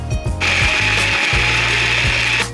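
A small blender whirs through lemons, mint and sugar for lemonade, starting abruptly with a loud, high motor whine over a pulsing low churn and stopping after about two seconds.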